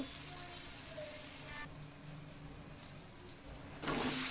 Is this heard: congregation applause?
no